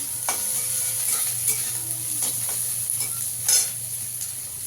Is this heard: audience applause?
no